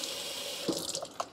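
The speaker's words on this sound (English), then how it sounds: "Run some water in there." Tap water runs into the dirty water tank of a Shark WD201 HydroVac cordless vacuum mop, a short close splashing gush with a few bright sloshes and drips.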